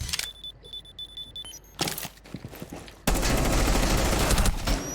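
Gunfire in Rainbow Six: scattered shots give way to a sudden, loud, sustained volley of rapid fire that continues to the end.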